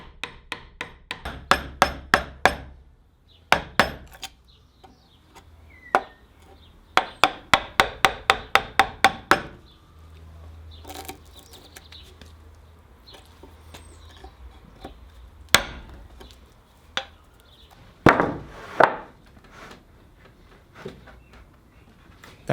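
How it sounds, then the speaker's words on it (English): Chisel work on wood cutouts for a mobile modular workbench: bursts of sharp hammer or mallet strikes, fast rhythmic runs of close knocks separated by quieter scraping and paring, loud and near with no talk. "I chisel out the last few millimeters until all 4 cutouts are exactly the same"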